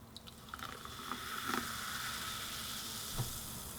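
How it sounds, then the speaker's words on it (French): SodaStream cola is poured into a glass, its foam fizzing with a steady hiss and faint crackling bubbles, quiet and close, with a few soft pouring splashes and no voices. "on entend bien la mousse du cola, on dirait un vrai cola"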